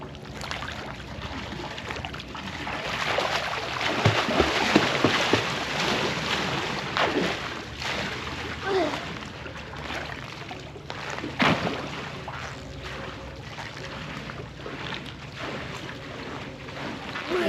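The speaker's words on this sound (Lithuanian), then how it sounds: "Vandens taksi." A water taxi boat underway on open sea near a Thai beach resort, its engine drone and rushing hull-and-water noise steady and close, with gusts of wind buffeting the microphone and a few splashes.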